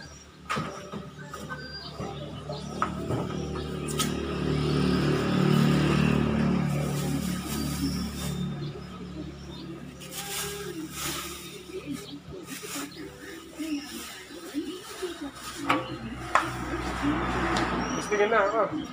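A newly bought engine for a kuliglig hand tractor runs on a test start, a steady low mechanical drone that swells in the middle and carries on with scattered handling noises nearby.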